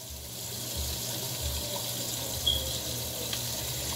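A bathroom tap runs in a steady, moderate stream for face washing with cleanser, a continuous watery hiss that holds throughout with no talking.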